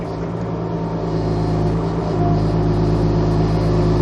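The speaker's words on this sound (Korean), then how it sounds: "장비마다 이게 엔진 소리나 펌프 소리나 조금씩 달라요" A Kubota U17 mini excavator's small diesel engine idles steadily nearby with a low, even rumble and a faint hydraulic pump hum, no one speaking.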